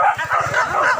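A hunting dog barks and yips close by during a wild boar hunt, a quick run of short, excited barks with no pause.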